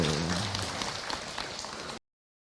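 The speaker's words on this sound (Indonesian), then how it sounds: "Tepuk tangan untuk kita semua" Applause from an audience at an Islamic sermon gathering, dense and steady for about two seconds before cutting off abruptly, with voices mixed in at the start.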